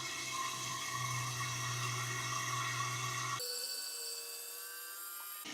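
A HOAMC Vibe rechargeable portable outdoor shower pumps dirty water through its clogging filter, giving a steady motor whine and watery rush that shifts abruptly to a thinner, higher tone partway through.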